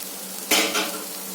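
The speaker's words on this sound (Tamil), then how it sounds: "நல்லா கிண்டி விட்டுட்டு திரும்ப ஒரு 5 நிமிஷம் சிம்மிலே இருக்கட்டும்." Okra poriyal with chicken powder being stirred in a pan: one sharp scrape of a utensil against the metal, then a softer second stroke, over a steady low background.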